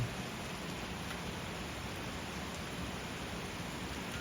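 Rain falling steadily, a continuous soft hiss of drops at a constant even level with no voices.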